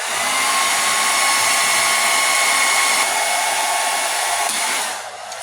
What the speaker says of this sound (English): And blow dry it on high.